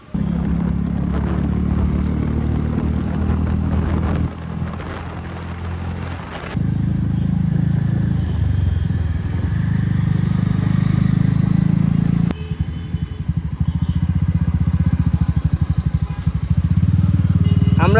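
A Royal Enfield Classic 350 motorcycle rides through city traffic in Mirpur, Dhaka, its low steady engine drone continuous and close, with surrounding traffic noise and brief shifts in tone as it moves along.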